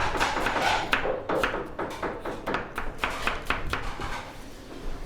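Onion being chopped with a knife on a cutting board in a kebab shop kitchen, a fast run of sharp, close taps and thuds repeating steadily, with no talking.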